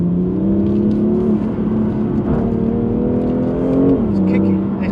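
BMW M2 Competition accelerating hard as the traction control cuts in, engine note rising and dipping in uneven steps under loud, close interior drone, with people talking over it.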